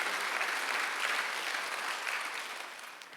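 Congregation at a Korean church Sunday worship service applauding, a steady dense wash of clapping that holds evenly for a few seconds and tapers slightly at the end.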